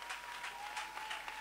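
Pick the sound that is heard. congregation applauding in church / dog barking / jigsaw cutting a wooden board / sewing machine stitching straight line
congregation applauding in church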